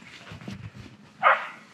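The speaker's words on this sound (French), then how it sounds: "Oh, les beaux petits chiens." A small dog gives a single short, sharp bark close by during a walk past some small dogs, preceded by quiet low rustling and murmurs.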